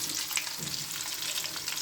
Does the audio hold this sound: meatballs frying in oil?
yes